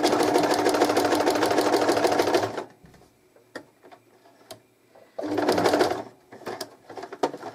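A sewing machine runs a steady, loud stitching burst along a shirt cushion seam, stops for a few seconds of light clicks and handling, then starts a second shorter run.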